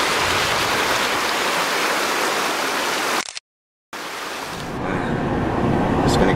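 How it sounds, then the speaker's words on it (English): Water at Broken Bow Lake, Oklahoma, heard as a continuous broadband wash like lapping or wind-blown surf, close and steady, broken by a brief total silence midway before resuming. "Hear the water."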